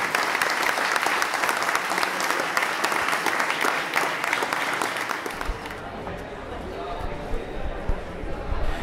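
Loud, dense applause from a crowd at the Challenge Roth 2022 triathlon fills the first five seconds, then drops to quieter crowd noise and scattered clapping.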